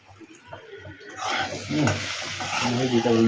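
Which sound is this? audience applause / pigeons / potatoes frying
potatoes frying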